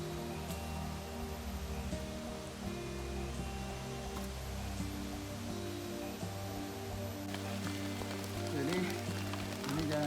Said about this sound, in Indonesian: Di tengah perjalanan, hujan mulai turun lagi.